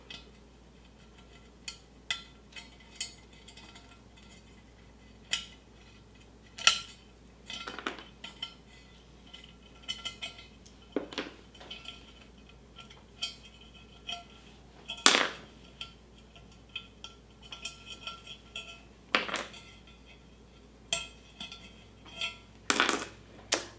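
Crystals pried off a small metal piece, giving scattered sharp metallic clicks and taps at irregular intervals, close and fairly quiet, with no talking.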